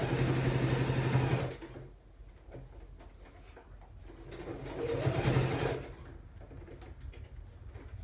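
A sewing machine runs in a steady mechanical whir that stops after about a second, then a second burst of stitching rises and fades in the middle of the clip, with quiet room tone between the runs.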